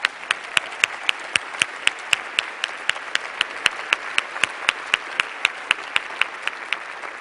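Audience applause at an awards event, a sparse, evenly paced run of individual claps, sharp and clear over a light background hiss, lasting the whole stretch without speech.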